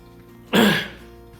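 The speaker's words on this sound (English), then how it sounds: "I'm gonna start coughing." A person coughs and clears their throat after tasting something that burns the mouth, one short harsh burst close to the mic, alone.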